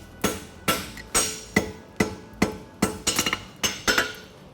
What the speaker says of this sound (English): Keep the branch down on the anvil and drive the corner to the anvil.